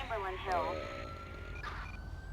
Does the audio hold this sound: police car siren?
yes